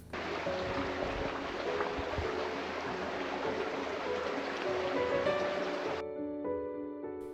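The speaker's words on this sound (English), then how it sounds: "I could sit by a creek and listen to this and watch all day long." A creek flowing through a Washington rainforest on the Kestner Homestead Trail in Olympic, a soft continuous burbling rush heard close and alone, with faint birdsong-like tones near the end as the water noise drops.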